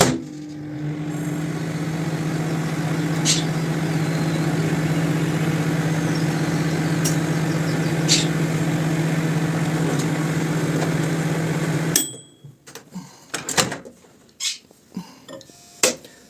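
A microwave oven set to 700 W warming gelatin hums steadily for about twelve seconds, then cuts off, followed by a few nearby clicks and clatter.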